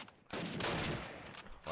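A single sniper rifle shot in a Call of Duty esports match, a sharp, heavy report followed by a rolling tail, then a second burst of noise at the end, fairly faint overall.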